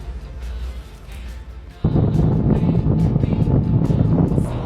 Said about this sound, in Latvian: Es nezinu, kas par trako vēju šodien, bet ārprāts.